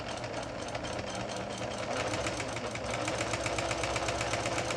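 An old Japanese domestic-market Singer Monami sewing machine runs a straight stitch, producing a steady, fast mechanical whir with a dense rhythmic ticking that continues without a break. It is close and moderately loud, with no talking.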